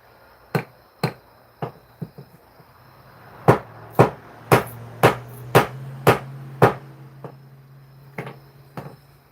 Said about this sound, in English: It's the hammering sound that lures them in, Travis, Crypto said.